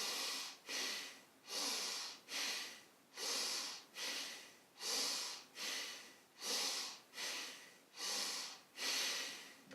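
Forceful, rhythmic bhastrika pranayama yoga breathing, about a dozen loud, close breath bursts alternating steadily in a fast regular cycle, with no talking.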